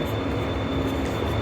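Steady low rumble and rolling wheel noise of a train at a station during a day trip to Belfast, continuous and fairly loud with no voices.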